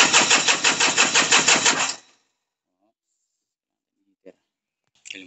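A small repaired engine, earlier troubled by white smoke and misfiring, starts and runs with an even pulsing rhythm for about two seconds, then cuts off, leaving near silence broken by a couple of faint clicks.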